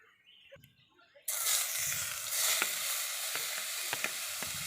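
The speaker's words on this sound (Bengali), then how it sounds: "গ্রেট করা পুরটা ফ্রাই করার লাগি কড়াইয়ের মধ্যে তেল ঢালে দিছি" Grated vegetable momo filling hits hot oil in a wok with a sudden loud sizzle that keeps hissing steadily, with faint stirring clicks, after a quiet start.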